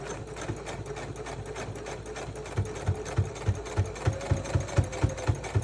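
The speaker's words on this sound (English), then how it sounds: "Okay, I'm sewing my dart." A sewing machine stitches a dart on a fabric bowl cozy at 2.5 stitch length, its motor humming steadily before settling into a fast, regular needle thump that grows louder and more pronounced near the end.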